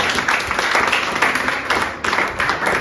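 A church congregation applauding during a sermon, a dense and steady wash of many hands clapping that surges slightly in waves, loud and close, with faint voices mixed in.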